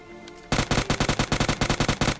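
Automatic gunfire in the mobile shooter game PUBG Mobile Lite, a loud, rapid burst of about fifteen evenly spaced shots that starts abruptly and sounds close.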